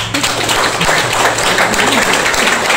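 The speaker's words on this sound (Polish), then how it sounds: "należą mu się szczególne oklaski" Audience applause at a herring-feast gathering, a dense steady wash of clapping from a crowd lasting the whole stretch, fairly loud and close, with murmuring voices blended underneath.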